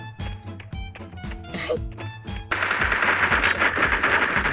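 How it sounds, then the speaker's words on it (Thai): Gunfire in the video game Sausage Man: a quick series of separate shots rings out, then a dense continuous burst of rapid automatic fire takes over and keeps going loudly to the end. "ใครยิง"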